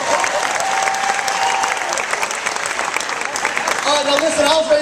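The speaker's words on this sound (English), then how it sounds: "Give yourself a big round of applause," An audience at the Essence Festival 2013 Empowerment Experience gives a big round of applause, a loud continuous wash of clapping and crowd noise, with a voice speaking and cheering over it toward the end.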